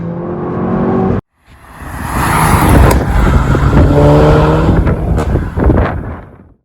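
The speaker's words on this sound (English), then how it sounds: "And then we have the exhaust noise" A loud car engine and exhaust roar up under acceleration, cut briefly by a gear shift, then drone on with rising and falling revs.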